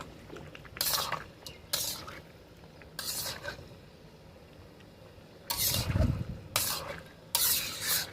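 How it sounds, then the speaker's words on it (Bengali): Mutton curry being stirred and cooked down in a pan, with repeated bursts of spoon scraping and stirring over a low, faint sizzle. "এবার সুন্দর করে আমাদের কষিয়ে নিতে হবে।"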